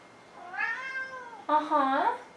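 A cat lets out two drawn-out meows close by, the second louder and more insistent, in an otherwise quiet room.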